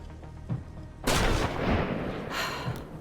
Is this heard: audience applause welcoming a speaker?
no